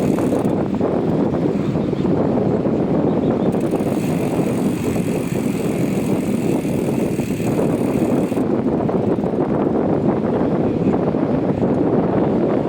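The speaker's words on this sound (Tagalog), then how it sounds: "Hangin na nagkapaalon dyan." Strong wind roars continuously against the microphone, a dense, rushing buffet with no pauses throughout.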